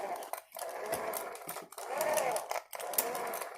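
A Redcat Shredder 6S RC car motor runs on a floor, giving a buzzing, whirring drone that surges and dips over a few seconds, with brief drops in between.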